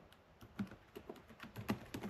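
Light, quick keystrokes on the keyboard of a Lenovo Legion 7i 2024 Glacial White Edition laptop, a short run of soft close taps with uneven rhythm.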